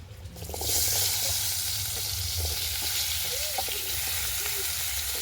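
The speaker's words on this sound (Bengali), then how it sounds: "এবার কেটে ধুয়ে রাখা আলুগুলো ভেজে নেব।" Small cut potatoes hit hot oil in a pan and break into a loud steady sizzle that carries on with faint stirring clinks underneath.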